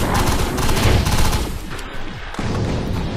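Rapid automatic fire from a mini rifle in the video game Defiance, loud and sustained, with dense overlapping shots filling the stretch and no pause.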